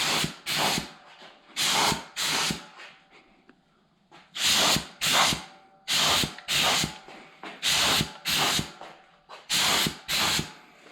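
A spray gun hisses in short, loud bursts, mostly in pairs with brief gaps, while coating 5.3 engine pistons up close.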